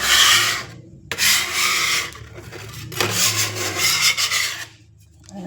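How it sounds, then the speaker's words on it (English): A bench scraper rasps across a kitchen counter, scraping up leftover bread dough in several long, rough, close strokes with short gaps between them. "the perfect way to clean up that is to get just your bench scraper"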